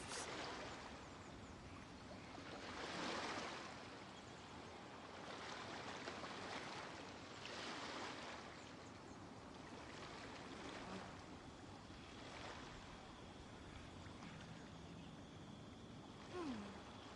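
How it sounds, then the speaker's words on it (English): Ocean waves in the video game Genshin Impact, soft surf washing in slow repeated swells over a quiet windy background, with faint, distant sound throughout. "Sound of the ocean waves."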